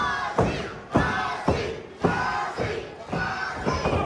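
Wrestling crowd at an independent show in Port St. Lucie, Florida, roaring in repeated swells, with loud thuds landing roughly every half second as blows and ring impacts hit, noisy and close throughout.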